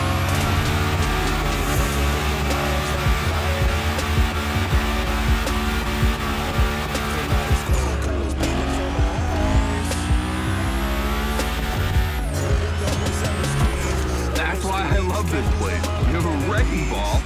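A car drifts in the video game The Crew Motorfest, its engine roaring loudly and revving hard while the tires squeal steadily. Rising and falling pitch sweeps mark the slides, and the game audio stays loud and dense throughout.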